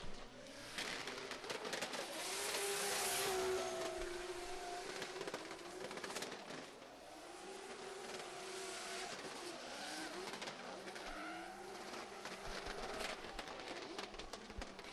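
Clint Van Oort's drift car screams around the last corner at the Oman International Drift Championship, a loud sustained engine wail rising and falling with throttle over crowd and track noise.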